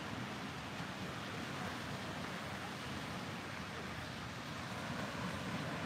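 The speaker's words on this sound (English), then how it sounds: "Just a relaxing day listening to the waves." Ocean waves wash in a continuous broadband rush, steady and moderately loud, with some wind noise over the microphone.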